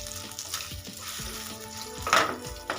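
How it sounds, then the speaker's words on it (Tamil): Carrot chutney ingredients sauté in a pan with steady sizzling and repeated scraping stir strokes, then a brief louder burst of hiss near the end, with no voices. "அதையும் சேர்த்துக்கிட்டு நல்லா வதக்கி எடுத்துக்கோங்க."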